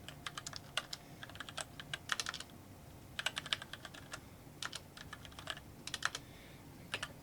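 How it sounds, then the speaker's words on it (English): A secret password is typed on a computer keyboard in quick, irregular bursts of soft, close keystrokes with short pauses between, over a quiet background. "Type, secret password."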